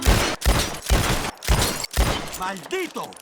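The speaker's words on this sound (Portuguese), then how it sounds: "a gente se posicionou para atirar nas garrafas" Rapid gunfire in Red Dead Redemption 2 as shots are fired at bottles: about five loud, echoing bangs in quick succession, followed by a voice speaking at the end.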